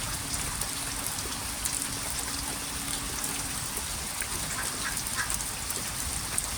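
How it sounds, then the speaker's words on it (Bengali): Heavy rain pours down steadily at an outdoor fishing spot, a dense continuous hiss of falling water and splashing drops with no voices. "বৃষ্টি এখনও হচ্ছে, তবে আজকের বৃষ্টিটা অনেক বৃষ্টি হয়েছে"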